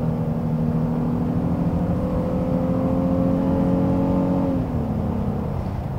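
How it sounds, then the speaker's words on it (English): Steady engine note from a second-generation Honda Ridgeline pickup's V6, with rising harmonic tones as it pulls hard into VTEC, then a brief drop near the end; loud and continuous with no talk. "the engine sounds great, especially when you get into VTEC"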